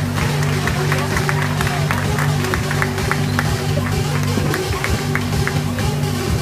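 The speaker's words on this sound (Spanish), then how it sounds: "Aplauso para nuestro modelo" Audience applause at a Pandora jewelry fashion show at Plaza Carolina, a busy patter of clapping mixed with steady background music and crowd noise throughout.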